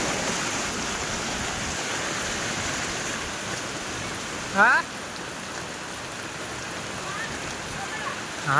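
A small river flows through a rainy Malnad village near Kalasa, its dense, steady rushing mixed with falling rain, broad and continuous throughout, broken by one short brief sound near the middle.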